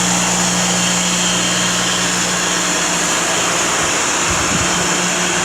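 A homemade shop fan driven by a restored electric motor runs with a loud, constant hum and a broad rush of blowing air. The sound holds steady for the whole stretch, close and without speech.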